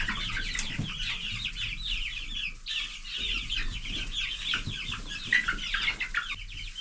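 Chickens in a coop cluck and chatter continuously at close range, with some wing flapping and rustling, and no talking.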